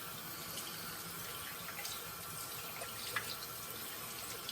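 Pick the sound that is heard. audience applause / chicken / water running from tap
water running from tap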